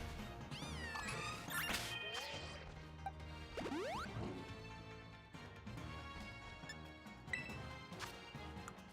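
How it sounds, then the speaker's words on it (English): Cat Pokémon cries in a Pokémon video game's DLC, meowing and caterwauling repeatedly with rising and falling wails over busy game music, thuds and whooshes, fairly quiet overall. "That's a lot of fucking cats."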